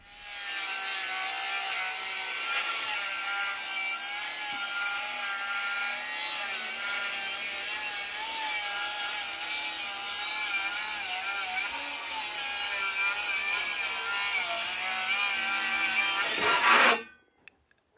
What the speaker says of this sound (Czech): Schválně jsem vám ještě nechal zvuk, abyste slyšeli, jak může v dnešní době znít zvuk akumulátorové pily, která řeže 55 mm dubu.